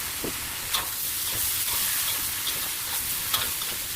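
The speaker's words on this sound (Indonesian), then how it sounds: "terus kita tumis" Spices stir-fried in hot oil in a pan on a stove, giving a steady broadband sizzle with a few soft scraping stir clicks, close and fairly quiet.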